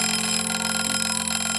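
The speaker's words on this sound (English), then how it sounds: "just as her alarm went off." A ringing alarm clock, as in a read-aloud children's story, sounds loud and continuous, with a rapid, even metallic bell rattle that holds steady throughout.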